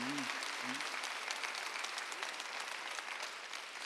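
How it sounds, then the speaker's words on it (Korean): A church congregation at a Sunday service claps hard and fast in a dense, continuous burst, with a preacher's voice briefly heard over the opening moments. "박수 세게 쳐봐요"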